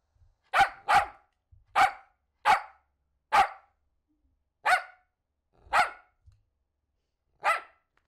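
A dog barks eight times in sharp, loud, separate bursts spaced roughly a second apart, close by, with near silence between them and no voices.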